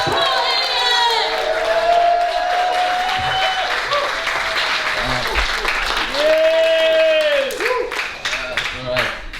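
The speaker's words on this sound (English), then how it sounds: "Give the loudest cheer ever, and bring on Paul Hilliard!" A comedy club audience at the Tobacco Factory cheers, whoops and applauds loudly for the final comedian, a sustained roar of clapping and shouts with a voice talking over it.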